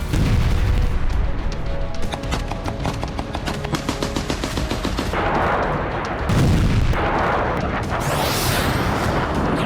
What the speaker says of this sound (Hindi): ऐसे बारूदी प्रहार किए जा रहे हैं जो सर्दियों से पहले की सबसे बड़ी जंग होगी।